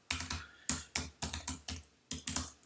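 Fast bursts of keystrokes on a computer keyboard during Linux command-line work, about ten crisp, close clicks in irregular clusters separated by short silent gaps.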